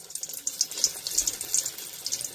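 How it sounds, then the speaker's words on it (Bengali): Pakora batter hisses and sizzles in hot oil, a continuous bright crackle with small popping bursts, close and steady without any talk. "তো বন্ধুরা, তেলটা গরম হয়ে গেছে, এবার আমি অল্প অল্প করে ছাড়তে থাকবো"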